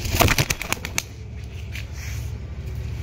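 Pigeons in a loft in Purba Bardhaman, with a burst of wing flapping and shuffling up close at the start, then a soft, continuous low cooing in the background.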